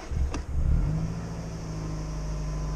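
A Nissan 100NX engine starting up: a brief starter crank, then the motor catches with a quick rev and settles into a steady low idle hum, close by with no talking.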